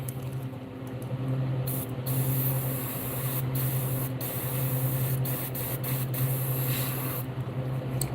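An airbrush sprays paint mixed with needle juice in a steady, loud, continuous hiss, briefly interrupted several times as the trigger is released and pressed again.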